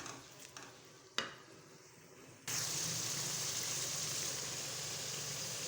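Moongre fry in hot oil with spices. A few soft clinks of stirring come first, then a loud sizzle bursts in suddenly and carries on steadily to the end.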